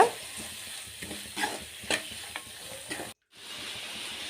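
Chili powder, turmeric and cumin stirred into hot oil in a pan for lentil dumpling kuzhambu, with scraping spoon strokes over a soft sizzle, a brief silent gap, then steady sizzling.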